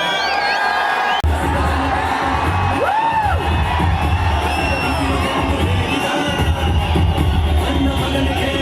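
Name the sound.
audience clapping at stage event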